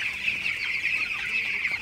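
Fifteen-day-old broiler chicks in a poultry shed at night keep up a continuous, overlapping chorus of high peeping and clucking, moderately loud and steady throughout.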